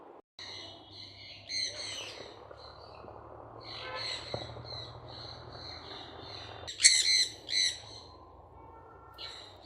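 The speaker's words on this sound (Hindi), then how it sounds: "पक्षी नहीं दिख रहे। आवाज़ें ज़रूर आ रही हैं।" Scattered bird calls and chirps in a bird park in Chandigarh on a warm day, a few bright calls rising over a low steady background hum, with louder squawks near the end.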